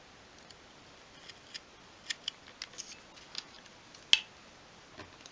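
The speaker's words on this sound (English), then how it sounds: "then we're going to cut the mitre join again in the two angled pieces" Sharp bladed craft tool cutting a mitre join in small angled wooden pieces for a 1/12th scale garden shed model; quiet, close, irregular clicks and snips, with one sharper crack near the end.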